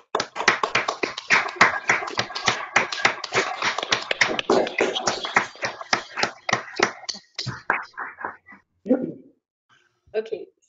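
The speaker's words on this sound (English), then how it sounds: "So we can clap for now" Small audience claps after a mathematics lecture, with close, sharp individual claps in quick rhythm that thin out and stop, followed by a few brief spoken words.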